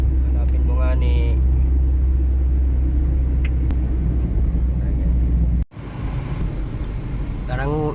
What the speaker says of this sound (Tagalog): grabe ka traffic, puro tricycle